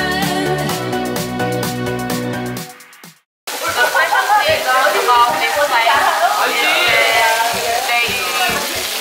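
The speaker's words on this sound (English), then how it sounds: "Our pork belly there, and then we put this stone plate and barbecue them twice." Pork belly sizzling on a Korean barbecue grill in an all-you-can-eat restaurant in Seoul, a steady close hiss and crackle that starts after a short burst of music and a brief silence, with people talking over it.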